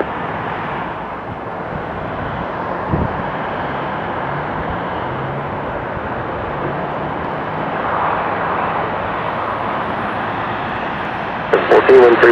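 Engines of an Alaska Airlines Bombardier DHC Q-400 turboprop airliner at Portland airport before departure, a steady broadband drone that swells slightly and holds through the clip, with radio chatter from air traffic control heard under it.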